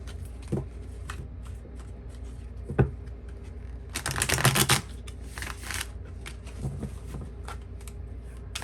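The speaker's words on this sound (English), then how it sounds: "Go ahead and lay these cards out." Tarot cards are shuffled and laid out on a table, with soft flicks and taps, one louder riffling burst in the middle, close and fairly quiet.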